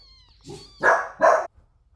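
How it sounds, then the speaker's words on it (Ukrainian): A pet dog gives two loud, close barks in quick succession after a softer lead-in yelp, then falls quiet. "У даному відео можуть лунати звуки собаки, але не хвилюйтесь, це моя собака."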